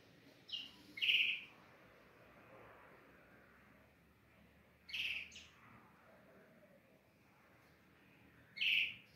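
A rufous-collared sparrow (tico-tico) in a spacious breeding cage gives three short, bright chirps spaced several seconds apart over a faint, quiet background.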